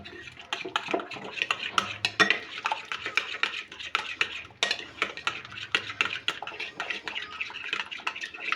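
Spoon clinking and scraping in a bowl while stirring together ingredients with lemon juice, oil and turmeric, a quick irregular series of close metallic taps and rattles with no talk.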